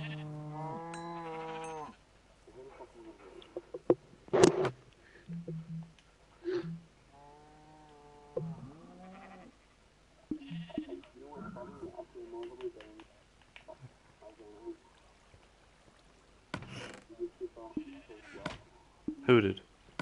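Sheep bleats from the Minecraft video game sound twice in short bursts near the start, then recur faintly among game noises while several players talk throughout.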